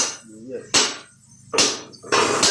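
Hammer strikes on metal while working on an old car, with sparks flying: three loud, ringing whacks spaced about a second apart, with people talking in between.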